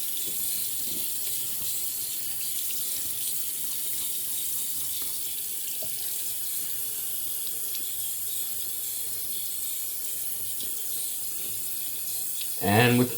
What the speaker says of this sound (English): Run some water on the bristles a bit, get them nice and wet